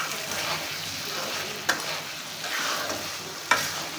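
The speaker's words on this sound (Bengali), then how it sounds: "মাংসগুলো খুব ভালোভাবে কষানো হয়ে গেছে" Broiler chicken meat fries and is stirred in a pan. A steady sizzle is broken by two sharp spatula clinks against the pan, and no one speaks.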